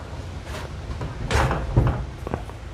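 A wooden bedroom door swings and bumps shut in a home, a couple of soft knocks and a louder thud close by, with faint movement around it.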